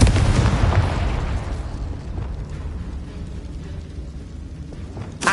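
A Confringo spell explodes in Hogwarts Legacy with a loud opening blast that rolls into a long, fading rumble and crackle over several seconds, ending with a fresh sharp burst.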